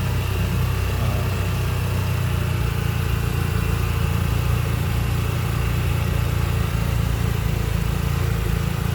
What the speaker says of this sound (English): There's a little John Deere crawler MC.